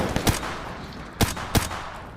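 Pistol fire in the video game Tactical Assault, four quick sharp shots in two pairs, close and loud against a quiet background.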